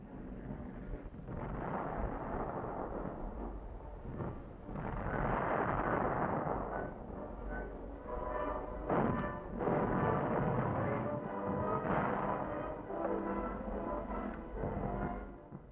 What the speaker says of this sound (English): From their assembly area, the tanks attack the town, vigorously supported by the artillery.